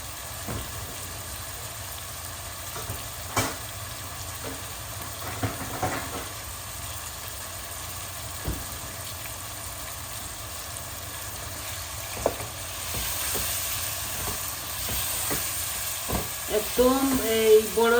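Tomato puree fries in a pan with a chicken breast curry with cauliflower and potato, a steady soft sizzle and hiss broken by occasional faint clinks, louder toward the end.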